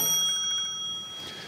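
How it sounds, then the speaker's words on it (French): A small bell on a reconstructed Marconi radio receiver, a replica of the 1895 wireless experiments at Salvan, rings faintly and steadily with a bright metallic tone for about a second, then fades, with no voices. "un élément récepteur qui perçoit cette onde et qui permet de faire sonner une petite sonnerie"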